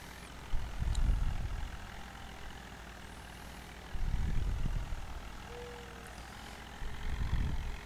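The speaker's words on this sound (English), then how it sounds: "Nice little tractor, guys." Low rumbling tractor engine in Farming Simulator 19, a small low-power tractor, swelling in three separate surges between steadier idling stretches, heard alone without talk.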